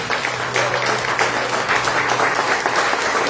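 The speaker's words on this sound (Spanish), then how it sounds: "Denle un aplauso al Señor en esta noche." Church congregation clapping in praise during a Spanish-language sermon, loud continuous dense applause close by with a faint steady hum beneath.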